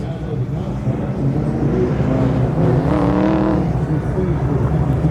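Autocross race car running a timed lap, engine loud and close as it revs and accelerates through the course with rising pitch, a commentator talking over it.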